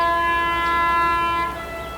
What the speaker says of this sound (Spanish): Todos han hecho sonar la bocina del tren en ese punto exacto